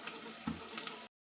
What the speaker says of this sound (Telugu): ఇప్పుడు ఇందులోకి కొంచెం నార్మల్ వాటర్ పోసుకోండి.